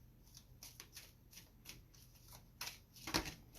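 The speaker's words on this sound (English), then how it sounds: "we'll just shuffle the cards and feel the energy come" A deck of tarot cards being shuffled by hand, quiet and close, with soft riffling flutters and taps in an uneven rhythm and a sharper snap near the end.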